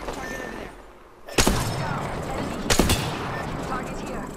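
Enemy gunfire in a close-versus-long-range shooter video game: two sharp, loud bursts of shots about a second apart, set over a steady bed of game ambience and effects.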